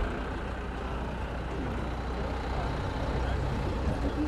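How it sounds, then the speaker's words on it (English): A Mitsubishi Canter truck transporting a Nissan Cherry and a Bluebird SSS rolls in at a Japanese classic car show in Gemert, Netherlands, its steady low engine rumble continuous and fairly close amid background crowd noise. "The Mitsubishi Canter truck. Transporting a little Cherry and a Bluebird Triple S."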